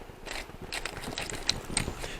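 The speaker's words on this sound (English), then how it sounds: "I'm just going to give 1 quick grind of pink Himalayan salt." One quick twist of a salt grinder cracking pink Himalayan salt over a pot of mushroom brie soup, a short burst of faint dry ratcheting clicks close by in a quiet kitchen.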